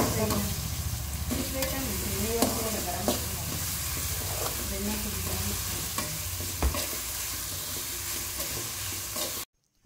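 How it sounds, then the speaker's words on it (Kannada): Vegetables for fried rice sizzle steadily in a hot pan while a spoon stirs and scrapes through them, a dense, close frying hiss with soft rhythmic stirring knocks, stopping abruptly at the end. "ಅದನ್ನೆಲ್ಲ ಚೆನ್ನಾಗಿ ಫ್ರೈ ಮಾಡ್ಕೋಬೇಕೀಗ."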